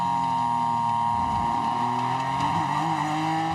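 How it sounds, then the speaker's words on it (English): A GT Daytona race car whines with a hydraulic noise during the 2019 NorthEast Grand Prix, a continuous engine drone with shifting tonal whines that rise and fall, sounding steady and fairly close. "The hydraulics making the noise."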